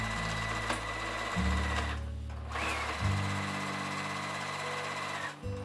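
A sewing machine stitches around a small handmade fabric bag, tacking its lining and outer layers together. The motor runs in loud, close bursts, stopping and restarting between runs.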